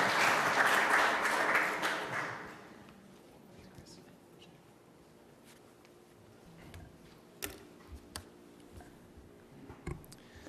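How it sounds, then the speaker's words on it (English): An audience claps at a Safe Streets community meeting. The dense applause fades after a couple of seconds into a quiet room with scattered clicks and low murmuring. "He loves the applause."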